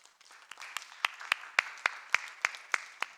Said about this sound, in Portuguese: Louve a Deus com as suas palmas.